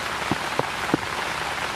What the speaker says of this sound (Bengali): বৃষ্টি পড়া শুরু হয়ে গেছে অনেক জোরে বৃষ্টি নেমে গেছে